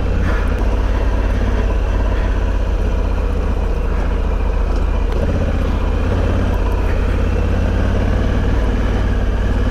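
Steady, loud engine drone of a motorcycle out on a test ride on Metzeler Karoo 4 tyres, continuous throughout with a constant low rumble and wind noise, no speech.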